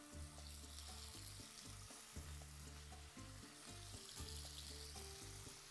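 Pork tenderloin (solomillo) sears in a hot pan for a Spanish dish, giving a loud, steady sizzle that runs throughout, with repeated scraping and clinking as the meat is turned and stirred. Nobody speaks.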